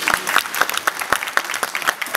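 An audience at a dictation event in Massy applauds with loud, rhythmic clapping in regular beats, close and sustained throughout.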